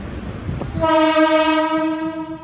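A loud, sustained train horn blares close by in Mumbai near Chinchpokli after a brief rumble, holding its rich, steady tone to the end.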